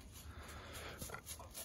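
A female Bracco Italiano hunting dog whimpers and pants softly in greeting, short whiny yips rising over faint outdoor background noise.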